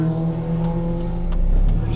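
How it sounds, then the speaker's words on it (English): A motorbike passes on a road near a parked 2004 Lotus Elise S2 with its engine idling, a steady low engine drone that swells slightly toward the end, with faint regular ticking over it. "So let's let this motorbike go by."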